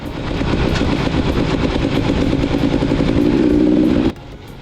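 A motorcycle rides through towns and markets in Papua New Guinea toward Snowpass on a tour, its engine and road noise loud and steady throughout, then dropping away abruptly near the end.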